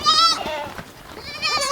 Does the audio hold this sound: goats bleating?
yes